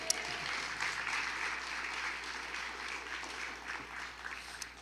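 A church congregation claps in a steady, moderately distant wash of applause that carries on throughout, with a few sharper individual claps standing out near the end.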